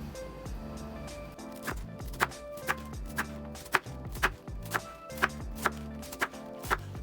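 Knife chopping cabbage on a cutting board, a steady series of crisp cuts roughly every half second, close and moderately loud, no talking.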